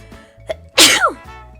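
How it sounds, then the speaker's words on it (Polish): A single loud sneeze bursts out partway through, set against quiet low background sound with a couple of faint clicks before and after. "Aha, kicham."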